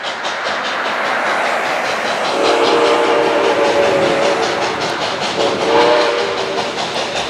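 A train bound for Calcutta rumbles and hisses steadily, loud and close, while sustained whistle tones sound twice over the rolling noise.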